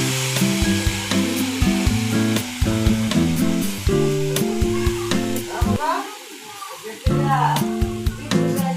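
Potatoes and ivy gourd fried in oil with onions and five-spice give a soft sizzle behind background music, with occasional stirring clinks near the pan.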